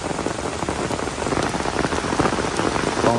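Heavy rain pours steadily at a grave site, a dense, loud, unbroken hiss of drops striking surfaces close by, with no voices over it.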